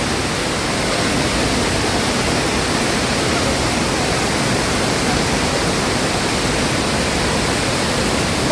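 Kynrem Falls in Meghalaya, a tall milky-white waterfall, pours with a steady, dense broadband roar that stays even and unbroken from start to finish.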